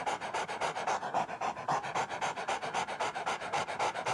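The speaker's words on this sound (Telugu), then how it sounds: "టామీ బస్సు కింద నిలబడి పైకి చూస్తూ తోక ఆడిస్తూ ఇంకా రొప్పుతూనే ఉంది." A small puppy pants hard and fast after running along a road behind a departing bus, a steady, rhythmic string of close, breathy pants that fills the whole stretch with no voices.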